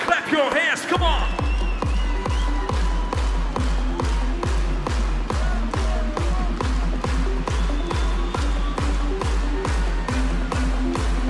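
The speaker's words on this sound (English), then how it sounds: "Clap your hands, come on!" A big concert crowd at A State Of Trance in Rotterdam's Ahoy arena claps in a steady, fast unison rhythm alongside a pounding electronic kick drum, loud and sustained, with a brief burst of cheering at the start.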